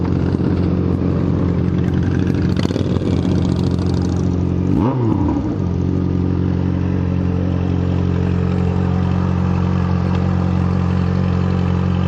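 A Yamaha XJ6 N motorcycle engine roars loudly and steadily at a parade alongside sister bikes, with a brief rising rev midway over a constant low rumble, close and continuous.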